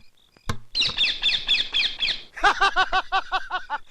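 Bird call sound effect played during a Malayalam movie scene: a close, loud burst of rapid squawking chirps in two quick repeating series, preceded by a sharp click, with no voices.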